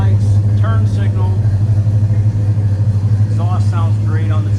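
A 1968 Chevrolet C10 pickup with a 327 V8 and brand-new exhaust runs nearby, giving a steady deep low rumble throughout while someone talks over it.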